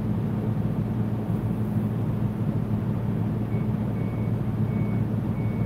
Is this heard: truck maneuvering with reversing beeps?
yes